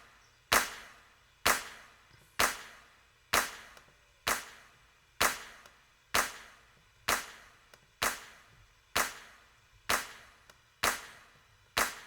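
A series of eleven sharp, dry claps at a steady, even pace, each with a short decaying tail, isolated and close, from a clap sample.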